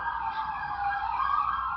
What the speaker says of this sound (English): Here a siren.